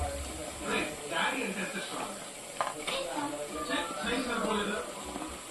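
Onions and a few green chilli pieces fry in a pan while being stirred, producing a soft, steady sizzle with scraping under a voice talking throughout.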